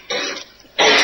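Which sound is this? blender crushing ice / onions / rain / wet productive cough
wet productive cough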